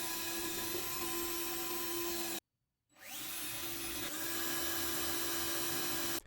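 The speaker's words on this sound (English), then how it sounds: "drill the pilot holes to screw them together." Power drill boring pilot holes through clamped IKEA kitchen cabinets, a steady high whine that cuts off, pauses briefly, then spins back up and runs continuously.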